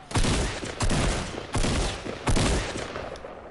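Sniper gunfire in Fortnite battle royale, four loud, sharp shots in an even, spaced rhythm, each followed by a short booming echo tail, with no talking.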